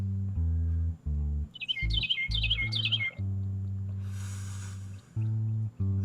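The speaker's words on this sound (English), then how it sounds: "I hear some birds." Songbirds give a quick series of bright, repeated chirps for about two seconds, sitting above a loud, steady low hum that stops and starts.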